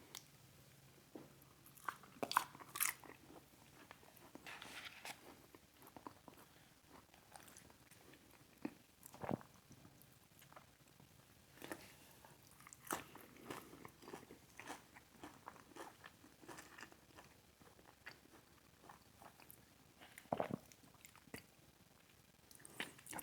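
Taco Bell food is bitten and chewed at close range in scattered, faint bursts of crunching and squishy mastication separated by near silence, with no talking.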